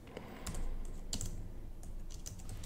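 Keys clack on a computer keyboard in short, irregular bursts, close and fairly quiet against a low background hum.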